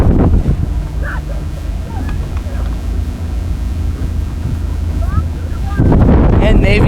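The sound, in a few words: wind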